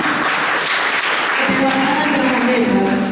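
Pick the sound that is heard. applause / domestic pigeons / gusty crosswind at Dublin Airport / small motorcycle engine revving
applause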